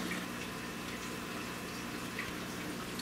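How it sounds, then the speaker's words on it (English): Water drains steadily out of a home aquarium fish tank, a constant faint trickle and rush with no break and no voices. "I am draining my water over here"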